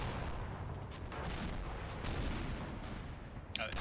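Mortar fire in a video game: a string of distant booming blasts and muffled detonations at a low level, with a sharper crack near the end.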